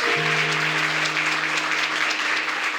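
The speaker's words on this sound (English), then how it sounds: "Please give a round of applause of everyone that was inducted tonight." A ceremony audience gives a round of applause for the evening's inductees, a full, continuous burst of clapping that stays loud and even for a few seconds.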